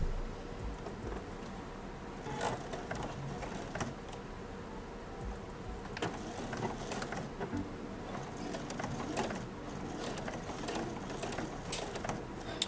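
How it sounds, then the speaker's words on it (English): A sewing machine stitches a silk dress seam, a steady close mechanical whir and rattle with irregular clicks running throughout, moderately quiet, with no talking. "now I'm just going to sew along that line"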